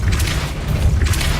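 Depulso spell cast in Hogwarts Legacy, a short loud booming whoosh with a heavy low rumble and a brief airy burst on top, heard alone with no talk.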